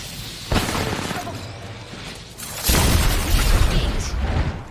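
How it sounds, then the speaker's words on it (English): An arc star grenade goes off in Apex Legends, with a sharp burst near the start and a louder, sustained crackling blast from midway that fills the rest of the clip, close and heavy. "Sending an arc star."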